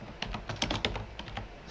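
Quick clatter of keystrokes on a computer keyboard while entering HTML in a text editor, irregular taps close up and fairly quiet, with no voices.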